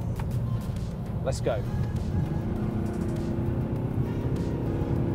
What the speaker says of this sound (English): see what happens when I put my foot down in the diesel version with this automatic gearbox